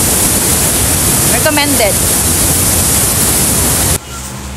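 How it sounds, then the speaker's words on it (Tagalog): Aliwagwag Falls waterfall cascading in an eco park, a loud unbroken broadband roar of falling water filling the scene, with a short spoken word over it partway through before the level drops suddenly at the end. "Aliwagwag Falls Eco Park is a tourist attraction in Katiil with 100 series of waterfalls."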